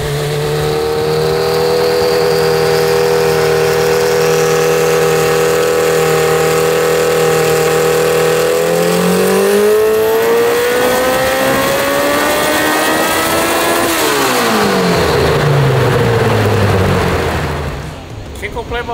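A heavily modified Honda Civic hatchback engine built for over 700 horsepower, idling loud and close before climbing through a long, smooth rev and dropping back down, with a dense buzzing drone throughout.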